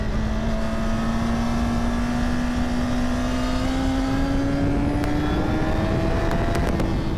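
A 2024 Honda Fireblade engine drones loudly and steadily as the bike leans through a left-hand corner, its pitch rising gradually with a few sharp ticks near the end, no voices.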